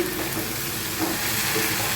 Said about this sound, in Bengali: এগুলো ভাজা হোক